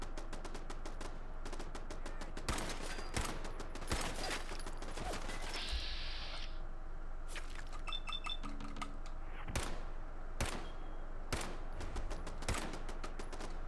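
Rapid gunfire from a weak weapon in Fallout 4, a busy run of sharp shots and bursts through the whole stretch, with a few scattered impacts and a short high electronic tone partway through.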